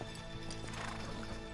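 Horses gallop in the video game Uncharted 3: Drake's Deception, producing a steady clip-clop of hooves with occasional neighing amid a busy game soundscape.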